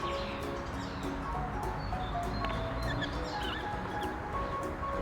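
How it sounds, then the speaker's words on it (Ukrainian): Birds singing outdoors on a sunny morning, scattered tweets and short whistled calls over a dense steady background hum. "Можете чути, як співають пташки."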